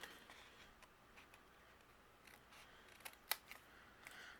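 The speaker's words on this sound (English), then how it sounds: "Now I'm going to take my scissors." Scissors snip quietly, trimming overhanging paper during cardmaking, in a series of small, irregular clicks and cuts, faint and close, with one sharper snip near the end.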